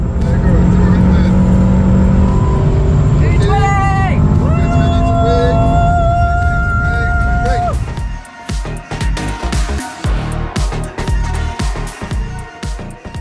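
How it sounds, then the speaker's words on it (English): Aston Martin DBX 707 SUV, a 707-horsepower model, driving on a race track with a loud, sustained engine note that climbs in pitch through several gear changes, then fades to rougher, choppier noise as a person talks. "I did a few test laps in Aston Martin's new DBX 707."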